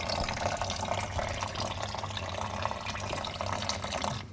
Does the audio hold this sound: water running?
yes